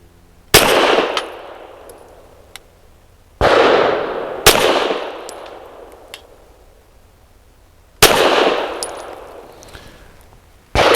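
Walther PDP Match steel-frame pistol firing PPU 158-grain subsonic rounds: four loud, sharp gunshots at irregular intervals, each followed by a decaying echo, close by, with no talk.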